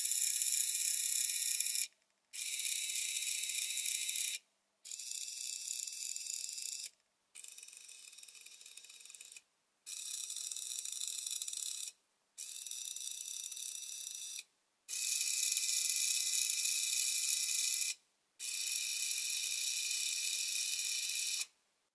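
An ESP32 omnidirectional robot drives on its wheels with a high, gritty mechanical whir from the motors, running in eight bursts of about two seconds each separated by brief silences.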